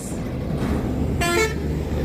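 Traffic rolls past on an overbridge near Farakka on the road toward Guwahati, a steady loud road rumble with a short horn toot in the middle and a voice talking over it.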